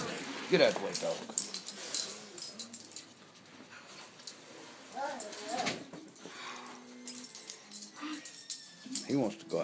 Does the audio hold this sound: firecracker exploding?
no